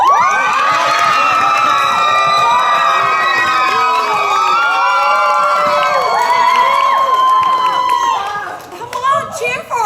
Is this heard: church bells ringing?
no